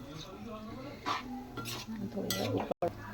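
A ground peanut, sesame seed and coconut mixture is stirred in a metal pot, giving a few scraping, clinking strokes of a spoon against the pan over a low background hum, with a brief gap near the end.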